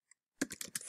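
Quick keystrokes on a computer keyboard while composing an email message: one faint tap, then a short burst of four or five crisp clicks, fairly close and quiet.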